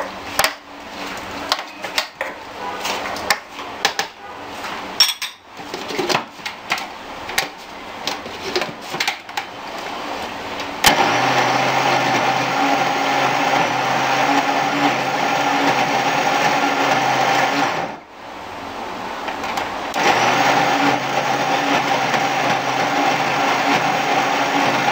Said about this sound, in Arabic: لما ضربناه في الخلاط